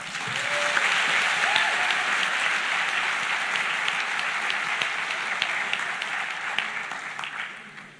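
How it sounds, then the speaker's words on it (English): An audience at a university PhD graduation ceremony applauds a choir, a full, sustained wash of clapping from a large crowd that swells early and fades gently near the end. "Another round of applause for the best choir."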